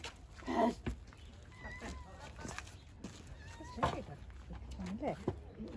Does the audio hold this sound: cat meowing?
yes